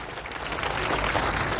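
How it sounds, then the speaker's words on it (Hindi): An event audience breaks into steady, dense applause for the chief minister, a brief continuous burst of clapping from a crowd. "एक बार दोनों हाथ उठा के जोरदार ताली के साथ सम्मान कराओ"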